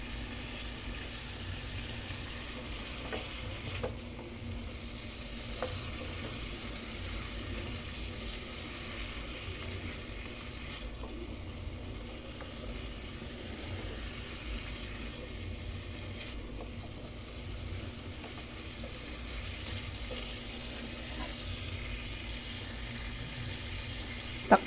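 Squash (kalabasa) cooking in a pan with shrimp, a quiet continuous sizzle and bubbling that holds steady throughout, faint and unaccompanied.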